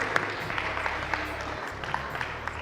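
An audience claps for a program director at a school talent hunt game show, moderate steady applause with scattered sharper claps, a low hum and faint voices beneath.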